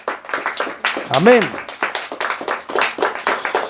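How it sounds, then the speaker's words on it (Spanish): A church congregation claps hands in a steady rhythm of sharp, close claps, with a voice calling out loudly over the clapping. "denle palmas al Señor, iglesia"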